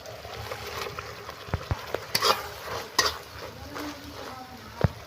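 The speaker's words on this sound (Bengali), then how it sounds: "এবার আমি চিংড়ি মাছগুলো দিয়ে দেবো।" Prawns frying in a pan with a spiced, salted masala, heard as a soft sizzle under a spatula's scraping and stirring, with several sharp clicks and knocks against the pan.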